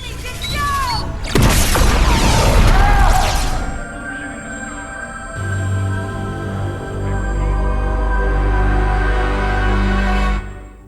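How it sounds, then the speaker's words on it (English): A sudden loud blast from a disciple-triggered explosion in The 100 TV series, a roaring burst with crashing debris that swells over a couple of seconds, then gives way to lower rumbling and dramatic score. "a disciple triggers an explosion and poof, Bellamy vanishes, apparently dead."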